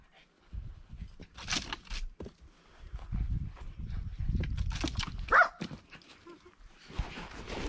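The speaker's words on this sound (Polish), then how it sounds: "Zobaczcie, jaki wyszkolony pies." A dog out on a Sunday walk gives a few short barks and pants amid rustling footsteps and outdoor movement, fairly close and moderately loud, with scattered noises around it.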